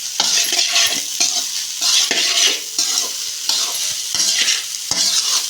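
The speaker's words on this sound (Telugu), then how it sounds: "ఇప్పుడు ఇవన్నీ కలుపుకోవాలి ఒకసారి బాగా పట్టేలాగా" Spicy egg rice being stirred and mixed in a hot pan, a steady sizzle with repeated scraping strokes in an even rhythm, close and fairly loud, with no talking.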